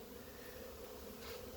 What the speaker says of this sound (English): I know it's got a good amount of nurse bees on it